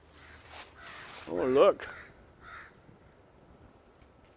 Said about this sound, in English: 4 crows are chasing a turkey vulture.